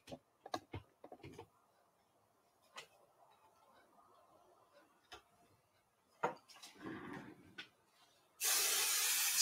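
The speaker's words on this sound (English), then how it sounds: "Spray it on the stabilizer, not on the fabric." A few quiet clicks and taps, then a loud, steady hiss of an aerosol spray onto embroidery stabilizer close by for about a second at the end.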